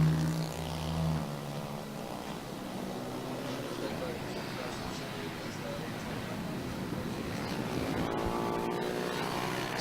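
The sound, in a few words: racing motorcycles going down the straight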